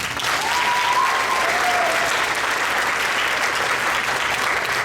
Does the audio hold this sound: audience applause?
yes